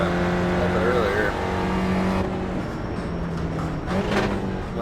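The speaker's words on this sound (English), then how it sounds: "Might have over-revved just a little bit there on that downshift" Race car engine in the iRacing sim revving high on a downshift, a steady loud engine drone with rising and falling pitch sweeps, a voice talking over it throughout.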